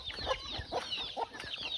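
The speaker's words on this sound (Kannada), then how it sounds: "ಇದು ಪ್ಯೂರ್ ನಾಟಿ ಕೋಳಿ." Native country chickens clucking on a small farm, several short close clucks and murmurs in quick succession, fairly near and moderately loud over light background noise.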